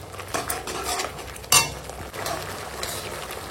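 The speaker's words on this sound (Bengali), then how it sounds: "ওই জন্য সব মশলাপাতি দিয়ে দিচ্ছি।" Spices go into a cooking pan with potatoes, with a sharp metal clink of a spoon or spatula against the pan and soft scraping and stirring around it, close by, with no talking.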